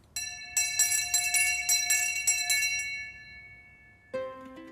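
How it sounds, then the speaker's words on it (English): An original school bell in a grand Georgian house rung by hand, a quick run of bright, ringing strikes that fade out over a couple of seconds, then one more ring at the end. "this is the original school bell"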